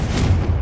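Confringo fire spell going off in the Hogwarts Legacy game, a short dense boomy blast that fills the whole brief moment loudly, with no voice heard.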